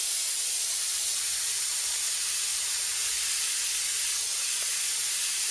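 Steady, loud airbrush hiss spraying paint onto a Freddie Mercury T-shirt, a continuous close airy spray with no breaks and no talking.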